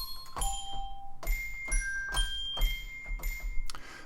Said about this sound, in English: Percussion. Tubular bells. Glock on spiel.